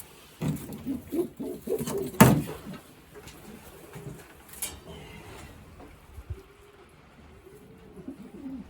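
Young racing pigeons in a loft coo low and intermittently, with a sharp clatter and wing-flapping bursts, close and fairly loud early and quieter toward the end.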